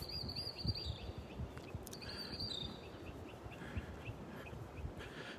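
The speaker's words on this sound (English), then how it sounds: "Listen to the birds." Birds chirp repeatedly at a beach in North Naples, Florida, their short calls faint and scattered over a steady low rumble of surf and wind.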